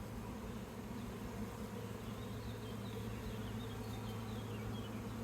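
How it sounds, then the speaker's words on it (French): Honeybees hum around the queen inside a beehive, a soft, close, continuous buzzing drone with faint rising and falling wingbeat tones and no voices. "il y a les abeilles qui se mettent autour d'elle, souvent ça fait un petit cercle"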